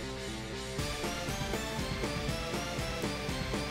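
A software-made remake of a song plays back as a dense full arrangement with a driving, steady beat and layered instrument parts, fairly quiet and with no talking.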